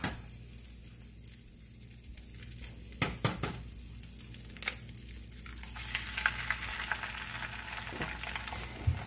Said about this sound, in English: I'm going to go ahead now and put the egg in.